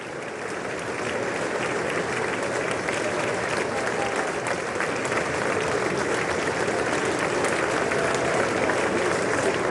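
A packed chamber at a presidential State of the Union address keeps up loud, continuous applause for several seconds, a thick unbroken wash of clapping with crowd murmur beneath.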